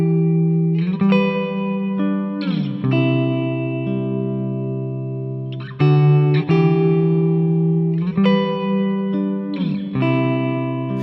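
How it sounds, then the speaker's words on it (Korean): An electric guitar played through a TC Electronic Hall of Fame reverb pedal: sustained chords and picked notes ring out in washes of reverb, with new strums every couple of seconds and long decaying tails, no talking. "먼저 TC 일렉트로닉의 홀 오브 페인."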